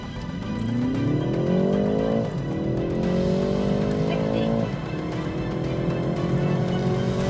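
A tuned BMW 340i with B58 engine, upgraded intake and exhaust, revs hard through rising gear pulls, with two sharp shift breaks, loud and close throughout.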